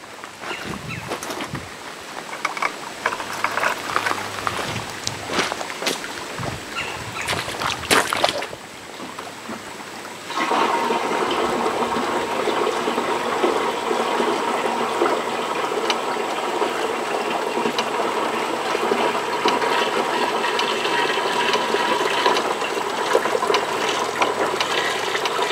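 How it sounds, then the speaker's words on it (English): Liquid fertilizer is poured into a sprayer tank while fertilizing a new food plot, a steady, loud rushing pour that runs continuously through the second half after some earlier handling clatter. "And hopefully I can pour that"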